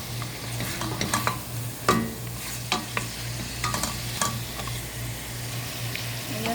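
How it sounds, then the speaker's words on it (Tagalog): Green beans with a spicy mix of goat meat sauté in a pan, a steady sizzle under repeated clinks and scrapes of a utensil against the pan, close and fairly loud, with no talk. "Gisa natin yan hanggat lumabas yung katas niya."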